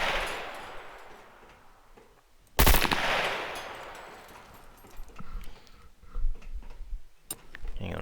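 Gunshots in the survival video game Scum, fired inside a torpedo factory: a loud, sharp shot stands out, followed by a fainter second shot several seconds later against low background noise.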